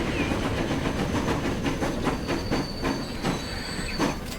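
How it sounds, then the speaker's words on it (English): A freight train in the Transport Fever 2 railway game rumbles along with a regular clickety-clack of wheels over rail joints, plus faint hissing and thin squeals above the steady roll. "That is definitely a freight train."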